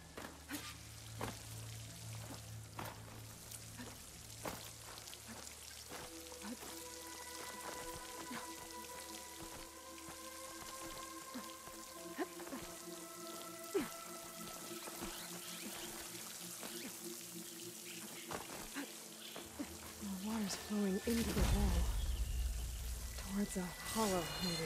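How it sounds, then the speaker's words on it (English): Water rushes and splashes near a waterfall in Horizon Forbidden West, a steady broadband wash running throughout with spattering drips, under layered game ambience and tones, swelling louder toward the end. "Where is this water coming from?"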